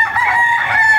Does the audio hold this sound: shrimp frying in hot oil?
no